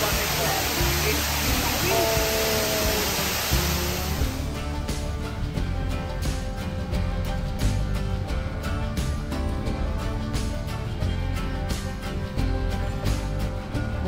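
A waterfall at Khorfakkan rushes as a continuous broadband roar of falling water. The sound is full and close at first, then continues slightly thinner with a crackly, spattering texture.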